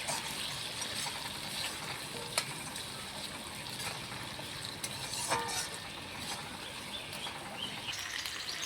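Cut potatoes fry in a pan with onion, garlic and ginger, a steady low hiss of sizzling oil with occasional scraping clicks from stirring, close and unaccompanied by talk.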